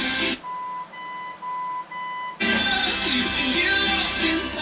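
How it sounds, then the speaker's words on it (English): A series of short electronic beeps pulses from the audio unit of a 1967 Chevrolet Chevelle SS, then a loud burst of music cuts in and keeps playing. "it's going to do the same thing, beep, but put us in the balance mode"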